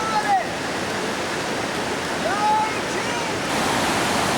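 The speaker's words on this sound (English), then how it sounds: "Some very pretty waterfalls." Steady broadband rush of a glacier-fed waterfall in Europe, continuous and fairly loud, with a few faint high whistles drifting over it.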